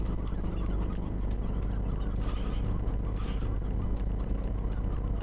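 Chickens clucking and squawking in the video game Slime Rancher, a dense continuous flock chatter that stays loud and steady throughout, with no talking.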